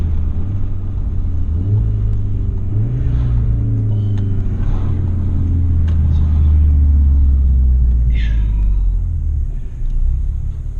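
A deep, continuous exhaust rumble from a 500 hp VW Golf 7R swells as the revs climb and then holds a loud, heavy drone, with no talking.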